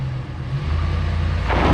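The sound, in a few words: RAM 1500 Hemi pulling heavy logs in two-wheel drive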